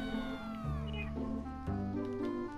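A cat meows in several drawn-out, wailing calls, close and loud, with in-game shooter action and a voice murmuring underneath.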